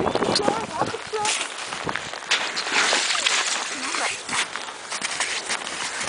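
Snow boots splash and slosh through slushy meltwater beside a frozen lake, a run of wet, uneven footfalls close by, with people talking over the steps.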